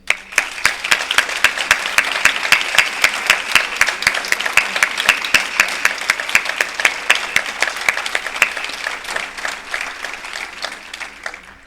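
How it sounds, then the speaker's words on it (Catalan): Audience applause at a quartet concert in Alfarb, a steady dense round of clapping lasting throughout, close and loud with no talk over it. "així que un aplaudiment per a ell"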